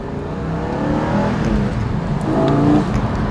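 A 2020 Porsche Cayman GT4 engine wails steadily while accelerating, a loud continuous rising engine tone heard from inside the car without any talking.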